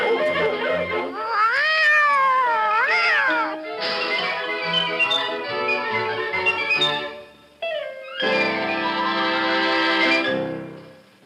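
A white kitten meows repeatedly as a sound effect in a 1956 radio drama, long rising and falling cries in close succession, loud and near, with a short break before a final drawn-out wail.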